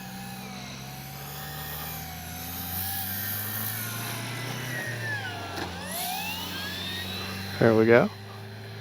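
An RC P-51D warbird model plane, a 1600mm scale Mustang, drones steadily at a distance while making a touch and go, its engine pitch sweeping as it passes, with a brief louder burst near the end and someone talking briefly.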